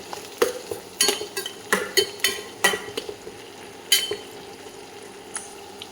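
A spoon stirs dried red chillies frying in oil in a pan for a vegetable gravy, giving scattered scraping and clinking knocks over a soft, low sizzle.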